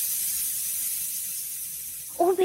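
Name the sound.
pressure cooker hissing sound effect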